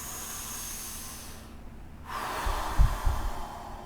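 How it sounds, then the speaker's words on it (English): Slow, deliberate breaths taken with eyes closed, a quiet airy hiss that swells into a louder inhale with a couple of breathy bursts toward the end, close and alone. "So what I do is I close my eyes and I breathe."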